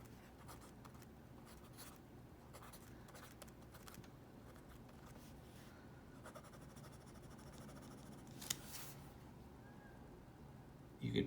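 Graphite scratching across paper from a Uni Kuru Toga mechanical pencil, a quiet continuous scribbling texture with a few small taps and a louder knock near the end.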